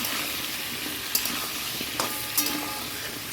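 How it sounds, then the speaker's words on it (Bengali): Pointed gourd, potato and tomato fry in a covered pan with a steady, even sizzle, broken by a few brief clinks of stirring utensils against the pan. "এবার এর মধ্যে আলুটা দিয়ে দেবো আর এই টমেটোটাও দিয়ে দিলাম আস্তে আস্তে ঢাকা দিয়ে দিয়ে ভাজবো"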